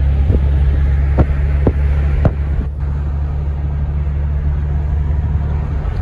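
Chevrolet Camaro cruising on a wet road, a steady low engine drone with tyre hiss from the damp surface and a few light clicks and thumps inside the car.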